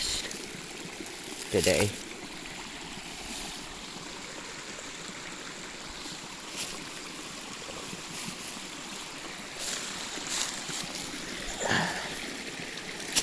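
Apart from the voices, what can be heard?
fast rushing stream water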